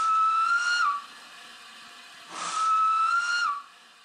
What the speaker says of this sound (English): It's got a great whistle.